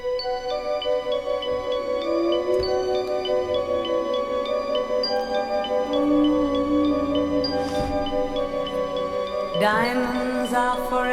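A sparkly, twinkly, ethereal intro with shimmering high bell-like notes over sustained tones, steady and full, swelling into a brighter flourish near the end.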